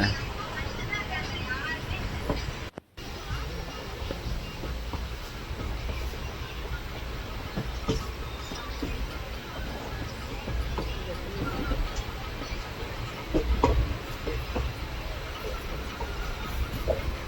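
The Guruvayur Express rolls into Villupuram junction, a low, steady rumble of the moving train with faint hiss and rattle, heard from inside the coach with a brief dropout early on.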